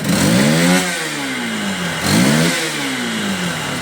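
Honda CBF 150 motorcycle engine revved twice in close succession with the throttle, each burst rising sharply and then falling back toward idle, loud and close with no talking.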